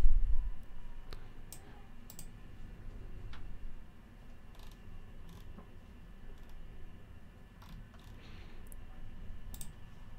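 Sharp, isolated mouse clicks tick out at irregular moments over a steady low room hum while a Google Cloud Marketplace listing is browsed, each one dry, close and quiet, with no voices.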